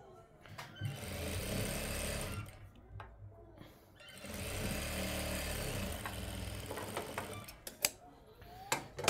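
A sewing machine runs in two long bursts stitching the edge of a palazzo, a steady close mechanical whir with a pause between runs and a few sharp clicks near the end; a voice talks faintly underneath.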